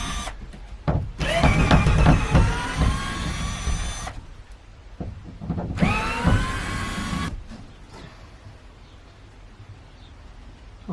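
Cordless drill with a flat battery whirring in two bursts inside a Mercedes Sprinter van conversion, the motor pitch sagging and straining during each run, with clatter and quiet pauses between.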